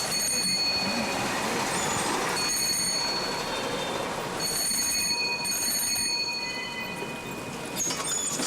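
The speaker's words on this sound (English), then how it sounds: "Dude doesn't mess around with the bell, man." A bicycle bell rung insistently and repeatedly on a street in China, bright metallic rings recurring in quick bursts over steady traffic and street noise.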